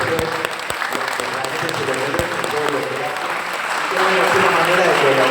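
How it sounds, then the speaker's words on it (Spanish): An audience at an aeroclub lecture applauds with steady, close, continuous clapping that swells slightly toward the end. "le quiero por favor un aplauso a esta gente que lo va viendo."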